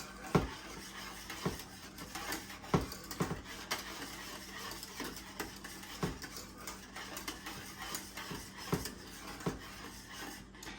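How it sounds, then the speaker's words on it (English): Vanilla ice cream custard being stirred almost constantly in a pot on the heat, with rhythmic spoon scrapes and taps against the pot, close and quiet over a low background hiss. "Now you need to stir it pretty much constantly."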